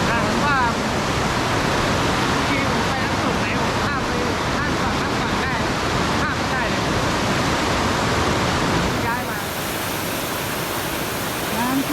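Waterfall at Lam Takhong, a steady broad roar of falling water heard close and loud throughout, with no pause.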